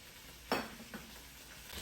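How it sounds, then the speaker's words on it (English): A short scraping stir of a spoon through chili in a pot, one firm stroke followed by a fainter scrape, close and alone in a quiet kitchen. "Mr. Belle gonna mix this up just like this"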